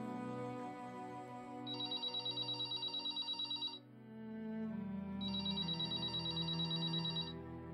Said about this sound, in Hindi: मैं करता रहूंगा फोन जब तक तू वापस नहीं आ जाती प्रीत।